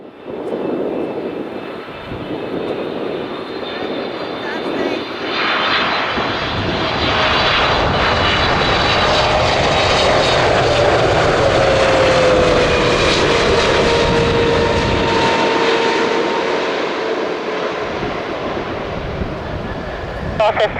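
An airliner on final approach into Chicago O'Hare in wildfire smoke, its engine roar building steadily and holding loud and broad for most of the stretch, then easing slightly, with faint radio chatter underneath.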